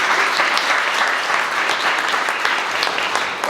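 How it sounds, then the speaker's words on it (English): At a regional luncheon, the audience claps for elected officials, dense steady applause that is loud and close, holding evenly throughout without pause. "Let's give them a round of applause."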